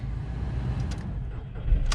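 A VW Polo engine turns over and settles into a low, even rumble close by, with a couple of faint higher clicks and rattles over the idle.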